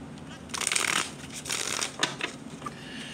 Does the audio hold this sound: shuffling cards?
yes